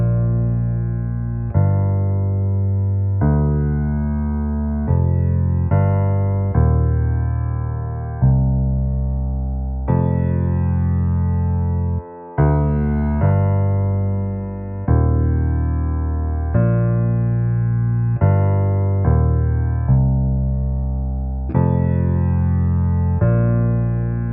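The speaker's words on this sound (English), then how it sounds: "I'll play it on the piano" Low piano notes play a slow bass line, each note struck and left to ring and decay before the next, close and clear with no voices.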